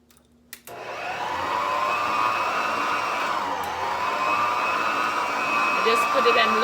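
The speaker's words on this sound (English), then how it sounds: "I'm just gonna add bit by bit in the mixer." An electric stand mixer whirs steadily on low speed, beating vegan strawberry upside-down cake batter as dry ingredients are added; the motor hum starts abruptly after a short click and runs continuously and fairly loud.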